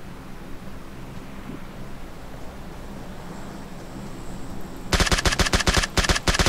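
Gunfire in an online shooting game: a steady noisy background with faint low rumble, then near the end a loud, rapid burst of automatic shots, close and sharp.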